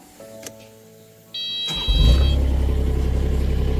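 A mini excavator engine cranks and catches, settling into a steady loud diesel rumble after a brief whine and a thump.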